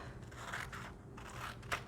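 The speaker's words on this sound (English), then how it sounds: "I'm going to cut off to make a square" Scissors snip through a sheet of paper while cutting it into a square for a craft project, giving a few quiet, close, crisp cuts.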